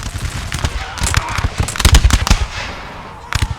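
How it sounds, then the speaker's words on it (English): Crackling musket volleys from British and French line infantry in a Napoleonic battle at La Haye Sainte, Waterloo, clusters of sharp overlapping shots bursting close and loud in ragged bursts, with a voice heard among them. "Need to fire, boys. Need to fire."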